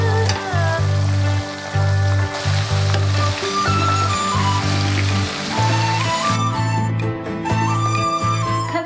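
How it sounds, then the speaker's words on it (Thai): Shrimp deep-frying in hot oil until golden and the shells turn crisp, a steady loud sizzle running throughout with a strong tonal backing track layered over it, no voices. "ทอดจนมันเป็นสีเหลืองทองนะคะไม่ได้ต้องทอดนานมากเพราะว่าจริงๆมันสุกอยู่แล้วแค่จะแบบเพิ่มความกรอบของเปลือก"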